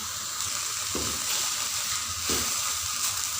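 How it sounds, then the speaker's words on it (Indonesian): Turmeric leaves stir-frying in a pan, a loud, continuous close sizzle with two soft thuds of stirring, no voices. "diaduk-aduk hingga merata"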